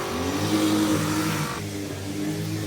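Grass is being mowed nearby as a motor mower drones steadily with a slight rise and fall in pitch, running continuously with no voices over it.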